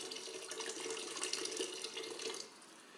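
Water runs from a tap into a pot of dal, a quiet, steady hissing stream lasting a few seconds before it tapers off near the end. No voices are heard.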